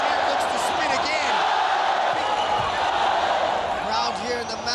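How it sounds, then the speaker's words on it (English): Crowd at a ONE Championship fight in Madison Square Stadium, a loud continuous roar of cheering and shouting from a large arena audience, with a commentator talking over it throughout. "Crowd here in the Madison Square Stadium loving this co-main event"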